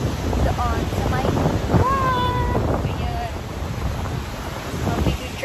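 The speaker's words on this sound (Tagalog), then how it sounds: "malakas ang hangin at ang lakas ng impact ng tubig" Strong wind buffets the microphone at a Cancun beach while waves crash and surge nearby, loud and continuous, with a voice and brief vocal sounds faintly mixed in.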